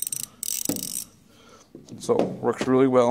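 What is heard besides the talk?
ratchet bar from Cornwell tool set clicking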